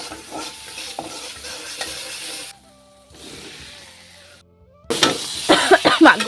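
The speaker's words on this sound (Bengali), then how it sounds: "হলুদ দিয়ে একটু মশলাটা কষিয়ে নেব কচুটা দিয়ে দেবো" Spices and turmeric stirred and sautéed in a pan for a taro curry: a steady sizzle with scraping stir strokes, a short quieter pause, then louder frying and stirring near the end. No voices.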